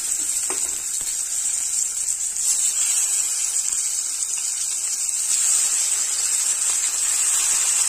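Fish pieces frying in hot oil in a pan give a steady, close sizzle that fills the whole stretch, with a faint stir or clink near the start.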